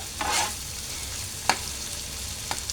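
Steady frying hiss of onions in a pan, with a few sharp scrapes or clicks of stirring at intervals.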